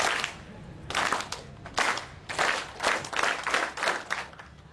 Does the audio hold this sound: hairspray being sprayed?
no